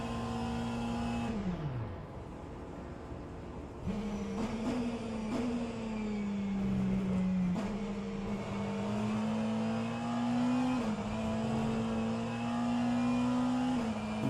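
BMW and McLaren race car engines accelerate in rFactor 2, a steady loud engine drone that drops and rises again through gear changes and climbing pitch sweeps, with no talk.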